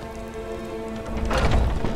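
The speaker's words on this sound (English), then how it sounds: "Is it still raining?" Steady rainfall in the game Skyrim hisses alongside sustained background music, growing heavier and louder in the second half of the short stretch. No voices are present.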